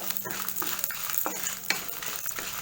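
Moringa leaves dry roasting with rock salt in a pan, dry rustling stir strokes and light scraping at an irregular rhythm, close and fairly quiet, with no voices.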